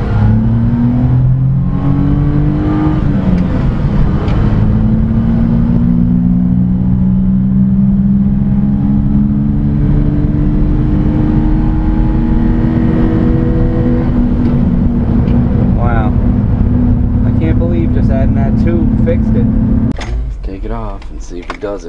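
Mini-truck engine with a modified airbox and a bigger intake fed by a Walmart air filter, revved hard and loud for about twenty seconds, rising and falling in pitch before dropping off, with a voice heard near the end.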